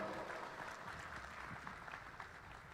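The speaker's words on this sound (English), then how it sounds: "Massive round of applause for the people on stage." Applause from a conference audience greets panelists taking the stage, a dense steady patter of clapping from a large crowd in a hall, heard at a moderate distance.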